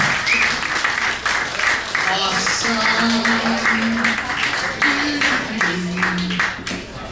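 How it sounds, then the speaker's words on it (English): Audience applause for a volunteer at a comedy mentalism show, sustained clapping throughout with a performer talking over it. "Let's get a big round of applause for our friend Ken."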